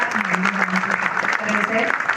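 Audience clapping steadily at a Babasaheb Ambedkar and Chhatrapati Shivaji Maharaj Jayanti celebration, fairly loud and close, with a voice speaking over it.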